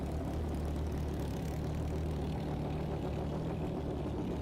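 Kawasaki ZX14 motorcycles sit at a drag strip during a championship race session, their engines giving a steady, distant, low rumbling drone that holds evenly throughout without revving.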